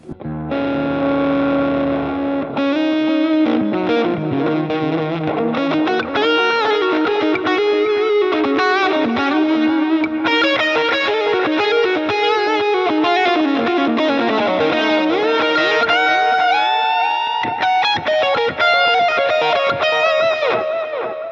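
Electric guitar played through Line 6 POD Go presets, with distorted chords and lead lines shifting between heavily effected tones, loud and continuous after a short sustained opening, with no voice.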